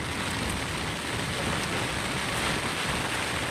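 Rain falls steadily during net fishing at sea, a dense, loud, continuous hiss with no break and no voices.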